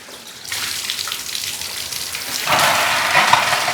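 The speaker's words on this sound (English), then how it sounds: "The water's coming out clear through the lead pipe." Water rushes through a trumpet's lead pipe during cleaning, a steady, close hiss and splash that gets louder and brighter partway through, with no voices.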